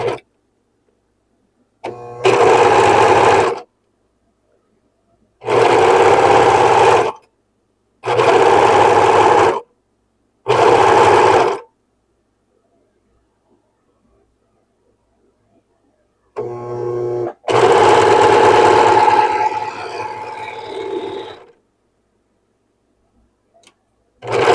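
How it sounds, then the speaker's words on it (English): A serger overlock sewing machine stitches a blue halter dress in five loud, steady runs of rapid mechanical whirring with short silent gaps between them. The last run is the longest and trails off gradually. "I'm using the serger because it just makes it easier"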